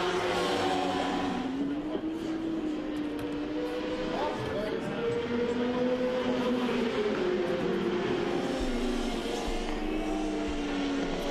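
Endurance racing motorcycles, a Yamaha and a BMW fighting for a podium place at the Oschersleben 8-hour race, drone past with sustained engine whine that rises and falls in pitch, steady and moderately distant under broadcast ambience.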